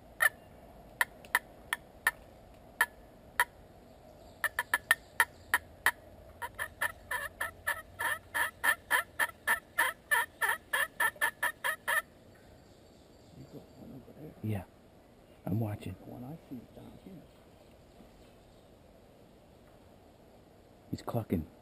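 Wild turkeys clucking in a field during a hunt: a rapid run of sharp, repeated clucks builds into a dense burst, then fades, with hunters whispering quietly afterward and a few more clucks near the end.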